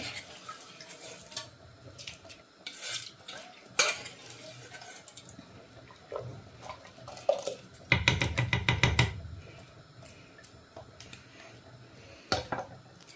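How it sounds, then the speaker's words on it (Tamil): Pongal rice being stirred and mixed in a pot at home in London, with scattered clinks and scrapes of a spoon against the pot, a brief burst of rattling, and quiet kitchen background, no talking. "எல்லா அரிசியும் போட்டுட்டு ஒரு மிக்ஸ் பண்ணிட்டு விட்டிங்கன்னா அரிசி தன்பட்டில் பொங்கல் அரிசி அவிஞ்சு கொண்டிருக்கும்"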